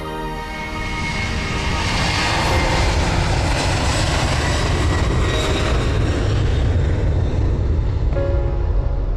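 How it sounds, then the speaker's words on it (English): An airplane taking off at an airport, a loud, sustained jet engine roar that builds quickly and holds as a dense, continuous rumble with a whining tonal edge. "Takeoff is most critical phase."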